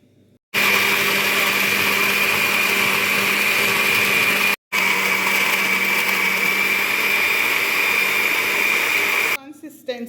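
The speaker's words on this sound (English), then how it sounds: "we're going to also put a little of the coconut into the potato and mix and blend as well" A kitchen blender purees sweet potato and coconut in a loud, steady whir that runs for several seconds, cuts out briefly, then resumes before stopping, followed by faint talk.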